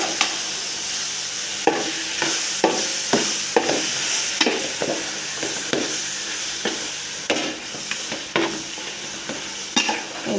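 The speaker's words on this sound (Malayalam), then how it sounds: "ഇനി ഗ്യാസ് കൂട്ടി വെച്ചിട്ട് ഒന്ന് നന്നായി യോജിപ്പിച്ച് കൊടുക്കുക." Chicken biryani masala stirred in a pan over a high gas flame, with repeated scraping strokes of a spoon against the pan under a steady close sizzle, and no talk.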